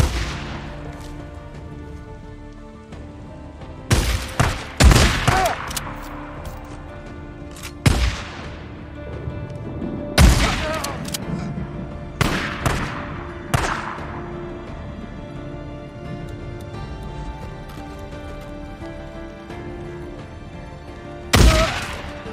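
Bursts of gunfire from a gun in the video game Days Gone, sharp loud shots spread irregularly over the stretch, some in quick clusters, over a steady game soundscape with music.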